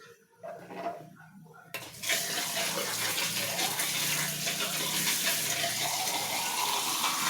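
Tap water gushes steadily into a kitchen sink after a brief clatter of dishes, the running stream continuing loud and close for several seconds.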